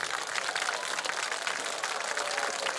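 A crowd in stands applauds the student council at a high school homecoming football game, steady mid-level clapping with faint voices mixed in.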